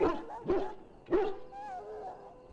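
A sick, injured dog in the Dragon Age: Origins video game gives three loud, pained barks in quick succession, followed by a drawn-out whimpering whine that fades.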